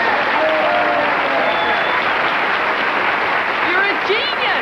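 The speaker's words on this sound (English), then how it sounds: "Please, a big round of applause for Bob Mackey." A studio audience at a television variety show reunion special bursts into loud, sustained applause with some cheering, a dense continuous roar from start to finish.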